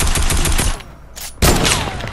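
Rapid bursts of video game gunfire during a multiplayer shootout, loud and close, with a brief lull before a fresh heavy volley of automatic shots.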